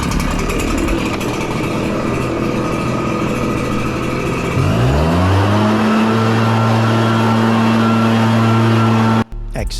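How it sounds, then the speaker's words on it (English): Leaf blower roaring steadily as it blows debris out of a garage, with the engine pitch settling into a sustained tone midway and a brief cut near the end. "I'll give the garage one last final blow with the blower"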